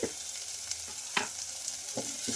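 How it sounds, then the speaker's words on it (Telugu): Tomatoes frying in a pan with salt and turmeric, giving a steady close sizzle with several sharp stirring clinks and scrapes spaced through the short stretch. "పసుపు పచ్చి వాసన పోయే వరకు అయితే ఫ్రై చేసుకోవాలి"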